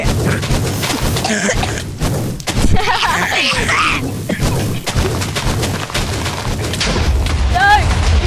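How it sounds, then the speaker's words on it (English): A cannon blowing up in the Minecraft video game, with repeated heavy booms and thuds scattered through the stretch, loud and close, mixed with game sounds and people talking. "you blew up my cannon"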